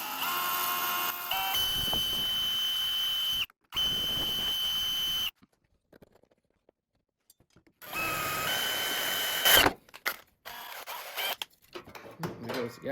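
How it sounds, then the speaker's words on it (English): A power drill runs with a drill bit in several sustained bursts, going on and off loudly up close during work on a Yerf Dog Rover UTV. "keep the drill bit from wandering there"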